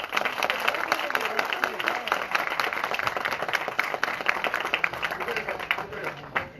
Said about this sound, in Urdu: جو لوگ آج یہاں موجود ہیں اپنے لیے ایک تالی بجائیں